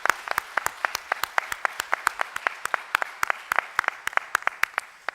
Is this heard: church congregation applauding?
yes